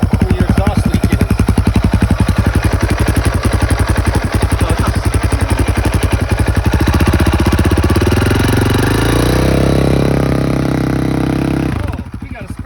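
A loud motorcycle engine with an exhaust leak runs close by with a rough, sharp popping exhaust rhythm, revving higher near the end before cutting off abruptly.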